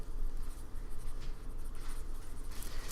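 Chalk or marker scratching across a board during a lecture, continuous close strokes with brief bursts, no talking over it.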